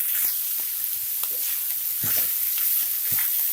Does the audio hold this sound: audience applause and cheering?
no